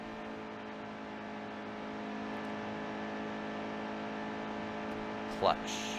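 Race car engine in NASCAR Heat 2 at Las Vegas, a steady high-pitched drone held at a constant level throughout, with a brief rising throttle blip near the end.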